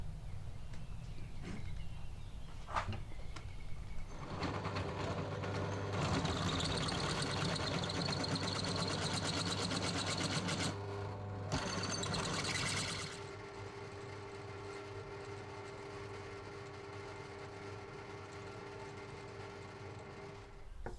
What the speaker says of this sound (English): I'm going to work up the drills, get the holes drilled